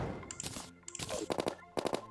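A gun in the Calamity mod for Terraria fires in quick bursts of rapid, snappy shots, with short pauses between the volleys, heard alone at a modest level.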